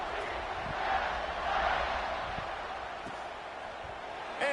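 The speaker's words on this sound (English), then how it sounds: "They're set to kick it off, and this crowd now ready to get behind them." Stadium crowd noise in the College Football 26 video game swells and holds as a broad, steady roar before a kickoff, with a brief surge at the very end.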